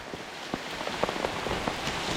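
Steady rain pours down on a forest campsite on Namunukula mountain, a dense continuous hiss broken by scattered sharper drops hitting nearby surfaces, with no voices.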